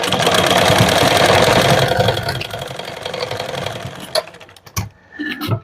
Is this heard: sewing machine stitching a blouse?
yes